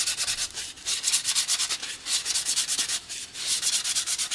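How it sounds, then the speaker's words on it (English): Sandpaper rubbed by hand over a plastic cowl ring moulding from a model FW190 warbird replica, giving steady rhythmic back-and-forth scratchy strokes, close and fairly loud with brief pauses between passes. "So a good going over with sandpaper like that."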